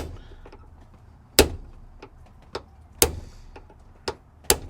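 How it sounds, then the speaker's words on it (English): A series of sharp metallic taps of a punch driving a roll pin into a Subaru Sambar shift knob, about six strikes spaced irregularly, close and crisp against a quiet background. "so I'm going to use my punch to get it in"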